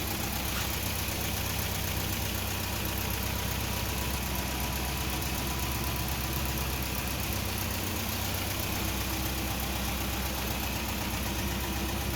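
A 1960 Nash Metropolitan's 1.5-liter four-cylinder engine idles steadily and evenly for the whole stretch, close and loud, with no talk over it.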